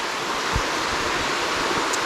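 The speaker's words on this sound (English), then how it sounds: "there's a little waterfall right here" Little stepped waterfall in a sandstone canyon at Turkey Run, a steady broadband rushing hiss of falling water with a few soft low thumps, close and continuous, no voices.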